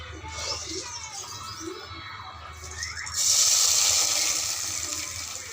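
Water poured into a pot of khichuri made with Gobindobhog rice and mung dal, a close splashing, gurgling pour that swells into a louder rushing stream near the end.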